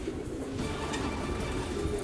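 Racing pigeons coo at the loft on arrival after a 125-kilometre race, soft low cooing repeating over a steady background rumble, with no talk.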